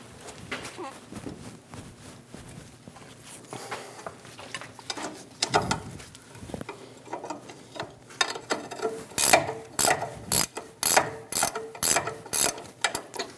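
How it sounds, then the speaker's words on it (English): An 18mm wrench works loose the upper ball joint nut on the front steering knuckle of a 2001-2006 Chevrolet Silverado 2500 HD, giving bursts of quick metallic ratcheting clicks, fairly close, with quieter gaps between them. "Using an 18mm wrench, loosen the upper ball joint nut."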